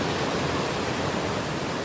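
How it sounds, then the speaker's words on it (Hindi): A village river swollen after a month of relentless heavy rain, roaring as a steady, loud, unbroken rush of water close by with no break or voices. "ये हमारे गांव की नदी है, देखो कितना सारा पानी आ रखा आजकल"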